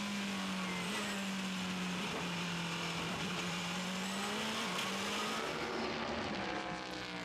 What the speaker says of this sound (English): another lap being completed by the number 2 Porsche of Brendan Hartley